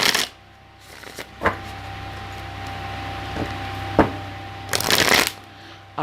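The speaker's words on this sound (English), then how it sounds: "Let me just give it a couple shuffles." Tarot cards riffled and shuffled several times at close range, with soft papery bursts and a steady low hum underneath.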